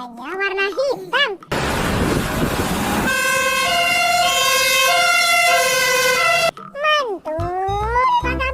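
Toy fire truck with a ladder sounding its electronic siren, a loud warbling wail and rising tones lasting several seconds, preceded by a burst of noise, with a person talking before and after.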